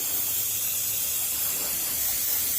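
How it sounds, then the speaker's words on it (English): An airbrush sprays varnish onto a scale tank model in a continuous, even airy hiss, steady and close, with no pauses over a few seconds. "You gotta spray it really wet, probably more wet than you're used to"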